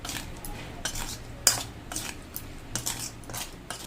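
A spatula scrapes and clanks against a wok while fried fish is stirred and mixed in oil, giving repeated metallic scrapes and knocks, one sharp clink, and a soft sizzle underneath, with no talk.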